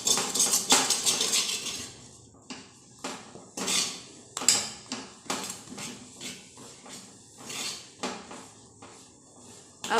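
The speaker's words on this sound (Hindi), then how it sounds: "इसे अच्छी तरीके से खरोचते हुए इसे भून लेना है।" Mashed potatoes frying in a kadhai, with a spoon repeatedly scraping and knocking against the metal in uneven, close bursts of clatter; no talking.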